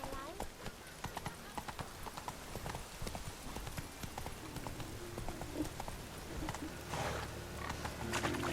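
Roach, the horse in The Witcher 3, beats out rapid hoofbeats on the ground in a continuous clip-clop, with voices talking over the hooves.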